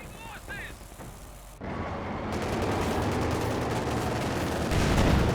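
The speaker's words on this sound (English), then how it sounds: "big Panzer IV shot there" Panzer IV tank cannon fire and surrounding battle gunfire in Company of Heroes 2 produce a sudden loud blast partway through, then continuous rumbling, crackling combat noise that builds toward the end.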